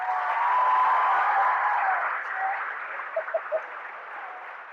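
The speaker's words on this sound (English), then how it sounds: "So give them a round of applause, please." Audience applause for a school's first state championship cheerleading team at a high school class day ceremony: steady clapping that swells early, then thins and tapers off, with a faint tone running beneath.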